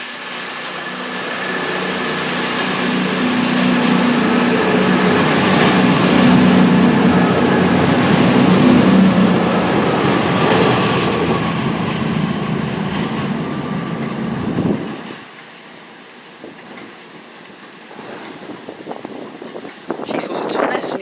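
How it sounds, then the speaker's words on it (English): A cross-country passenger train departing Plymouth station builds into a loud diesel roar with rumbling wheels, then drops away abruptly to quieter station noise with scattered clatter. "going out now is the 11:50 cross-country service to Manchester Piccadilly from Penzance"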